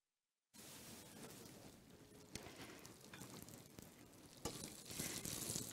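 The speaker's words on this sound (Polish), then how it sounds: "Na powiedzmy rozgrzany olej wrzucam tofu, jest rozgrzany. Teraz mi się to podoba. Skwierczy" Tofu dropped into hot oil in a pan sizzles steadily and closely, a dense crackling hiss that swells slightly with occasional sharper pops, with no talking.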